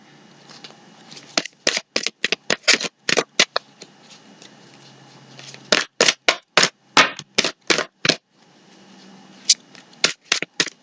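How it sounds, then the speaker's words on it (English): Tarot cards are shuffled by hand in rapid bursts of crisp, flapping riffles, close and clear, with short pauses between the runs of quick snaps. "I'm going to give it 3 more shuffles,"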